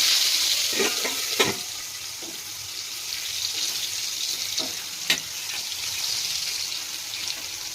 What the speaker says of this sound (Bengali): কুমড়ো ভাজা।